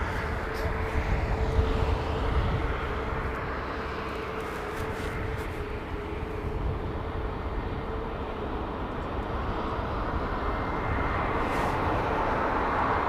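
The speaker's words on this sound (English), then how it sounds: "all these jets that you're seeing here, folks, they're all coming up to line up for departures on runway 27 right" Jet airliners rumble steadily as they queue up to line up for departure on runway 27 right, a continuous broad engine roar throughout with a faint whine, while someone talks over it.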